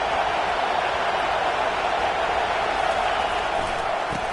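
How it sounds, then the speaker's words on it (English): A loud, raucous football stadium crowd roars continuously as a team tries to punch the ball into the end zone, a dense, distant wall of noise with no distinct voices. "quiet this crazy, raucous crowd"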